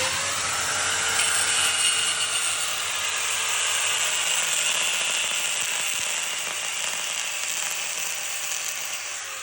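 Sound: angle grinder grinding magnesium metal

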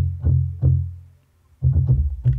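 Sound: guitar through Waves saturator plugin with mix at maximum

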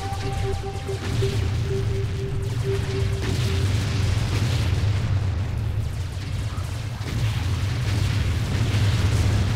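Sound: rocket explosions in a video game

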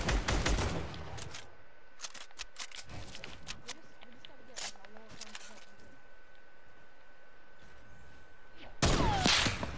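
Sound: gunfire in a video game

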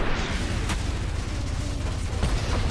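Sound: explosion in the video game Ultrakill

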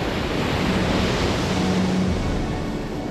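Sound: strong wind and waves on the coast at Cape Trafalgar

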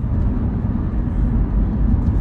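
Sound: Mazda 6 sedan engine accelerating

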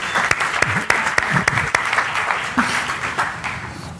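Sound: audience applause

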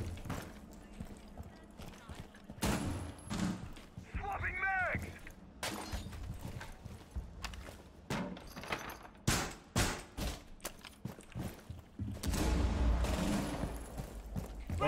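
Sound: explosion and gunfire in the video game Rainbow Six Siege

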